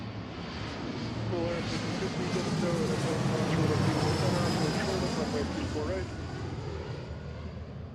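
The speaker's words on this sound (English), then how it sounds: "of course, my favorite aircraft, the 175" An Embraer 175 jet arriving at Seattle on runway 34L, heard as a broad, steady roar that swells through the middle and eases slightly toward the end, with people talking quietly over it.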